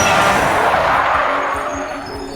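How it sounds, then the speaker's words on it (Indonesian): A truck's tires skid loudly on the road before it hits a person in a film scene, a harsh, sustained screech that fades slightly toward the end, heard alone without speech. "dia justru tertabrak oleh sebuah truk."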